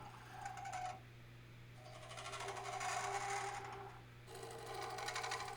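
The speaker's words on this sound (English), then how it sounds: "I'm going to use a shear scrape to really smooth this out and get the curve just the way I" A woodturning lathe hums steadily while a shear scraper smooths a crotch wood bowl. Bursts of rasping, whirring cutting noise swell and drop away several times, close and alone, with no talking.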